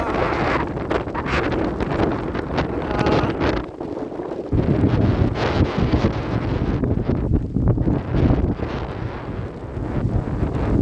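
Strong wind near Glenmore Reservoir during a yellow weather warning buffets the microphone in loud, continuous gusts, rising and dipping throughout, with a brief lull partway.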